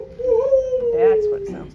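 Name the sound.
person imitating a barred owl call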